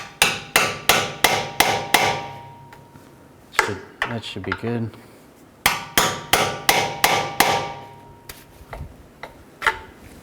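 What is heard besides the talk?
hammering a pry bar into ball joint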